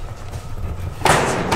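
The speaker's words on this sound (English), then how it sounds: "a couple of shelf doors are slammed shut with great force" Shelf doors slammed shut with great force inside a haunted church, a sudden loud bang near the end over a low, murky room background.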